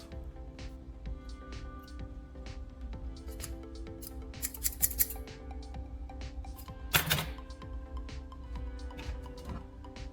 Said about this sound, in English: Place the scissors on the bench and bring in a dry towel. Try to cut.